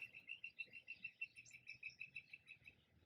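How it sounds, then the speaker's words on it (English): Small birds chirp in a quick, steady run of bright repeated notes, faint and somewhat distant, over a quiet outdoor background with a low insect hum. "the birds are just, all over the place, enjoying the morning in the garden"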